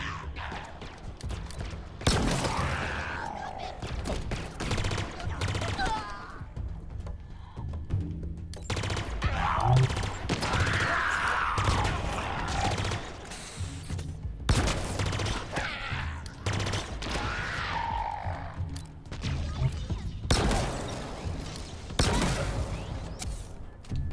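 Repeated bursts of weapon fire in the Halo Infinite campaign, loud rattling volleys broken by short pauses across the whole stretch, with rumbling impacts beneath.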